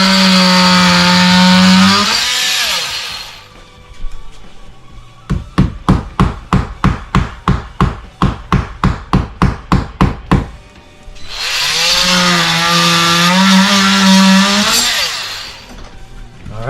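A golf tee is hammered into a door hinge screw hole: roughly sixteen sharp, evenly spaced wooden taps in a steady rhythm, close and loud, set between stretches of sustained tonal noise.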